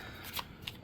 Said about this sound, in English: It's surprisingly easy to shuffle,